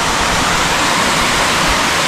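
Close, constant roar of a rain-fed waterfall at Visapur fort, a thick even wash of pouring water filling the whole moment, unaccompanied by speech.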